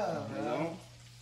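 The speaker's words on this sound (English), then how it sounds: "Yeah, that shit sizzling, dog." Food frying in a pan during home cooking, a brief soft sizzle under a voice that fades to quiet hiss.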